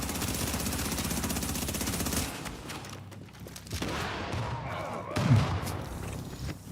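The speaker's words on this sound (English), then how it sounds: "Explosion killed them all." An explosion in the video game The Division 2 booms amid a sustained barrage of game gunfire, with a sharper blast standing out near the end over a dense, loud battle mix.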